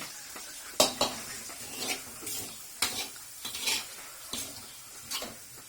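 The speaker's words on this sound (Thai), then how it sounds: "เชฟใหญ่กำลังผัดอยู่ครับ" A head chef stir-fries in a restaurant kitchen, metal utensils clanging and scraping against a pan in irregular loud hits over a steady sizzling bed, with no voices.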